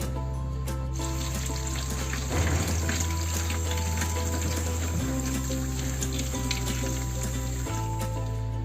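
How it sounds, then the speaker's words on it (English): Tap water running steadily over peeled potatoes being washed in a kitchen sink, a continuous close splash and trickle with shifting tone as the potatoes are handled, no talking. "My potatoes are peeled and now we will be washing them."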